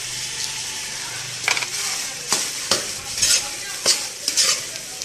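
Crushed coconut roasting with lentils in a pan, a soft continuous sizzle broken by sharp scrapes and clinks of a spoon stirring against the metal at irregular intervals.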